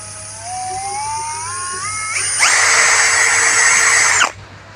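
A TOTAL TCKLI1638 16V cordless drill spins up with a rising whine, ramps through several speed steps, then holds a loud, steady high-speed whir before abruptly stopping.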